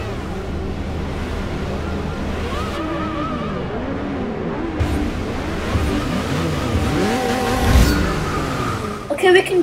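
Race car engines roaring in Forza Motorsport 6 at Indianapolis Motor Speedway, loud revving with rising and falling pitch sweeps as cars pass, and a player talking over the noise.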